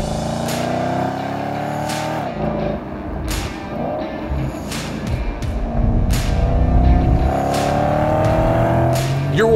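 A 2021 Porsche Panamera GTS V8 engine pulls hard with rising harmonic tones, shifting mid-run and building again, loud and close with broadband road and wind roar throughout.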